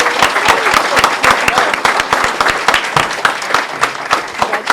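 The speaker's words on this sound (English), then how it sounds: "How about another big round of applause?" A room of attendees at a town board meeting gives a big round of applause to congratulate a group of Scouts, a thick, steady patter of many hands with a light crowd murmur.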